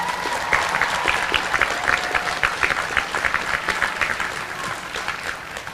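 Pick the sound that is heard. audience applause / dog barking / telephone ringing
audience applause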